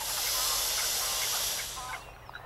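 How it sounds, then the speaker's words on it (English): A snake hisses in a steady, loud, breathy rush that runs for about two seconds before cutting off, alone with no talk over it. "Or a snake hissing."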